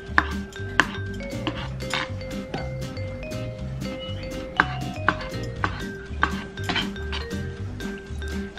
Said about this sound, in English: Then I'm gonna cut up some olives.